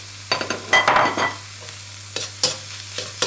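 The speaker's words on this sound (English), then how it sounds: "And then add the cooked shrimp and the sausage." A metal spatula scrapes and clatters in a wok while egg fried rice with shrimp and sausage sizzles lightly, in a burst of busy stirring followed by sparser separate scrapes.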